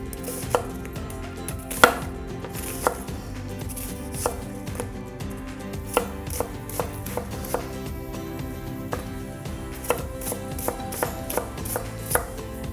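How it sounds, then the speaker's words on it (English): A knife chops vegetables on a board in quick, irregular taps and thuds, close and steady throughout, with no voices. "He heard me chopping"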